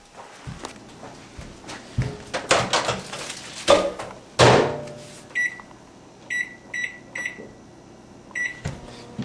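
A microwave oven heats a burrito amid kitchen clatter of doors and footsteps, then a series of short electronic beeps sounds near the end.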